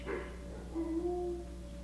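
A dog barks faintly in the background, a few soft yips and a short whine heard at a distance in a quiet indoor room.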